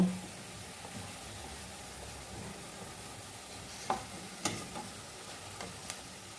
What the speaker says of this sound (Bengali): বাকি সমস্তগুলোকেও ভেজে নিচ্ছি